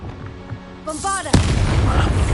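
A Bombarda spell explodes in Hogwarts Legacy, a single sharp blast with a sudden broadband burst, preceded by a rising magical whoosh and trailing off in rumbling debris.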